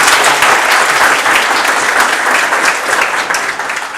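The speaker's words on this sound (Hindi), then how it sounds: "इनके लिए एक बार जोरदार तालियां बजा दीजिए" Dense, loud applause from a large crowd at a meet-and-greet event in Jaipur, continuous clapping that holds steady for several seconds and then begins to thin toward the end.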